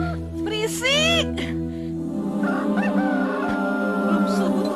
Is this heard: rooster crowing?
yes